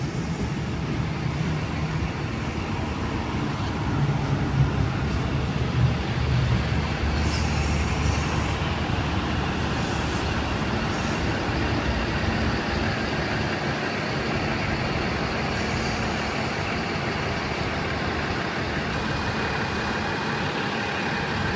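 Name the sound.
Explorer passenger train departing platform at Broadmeadow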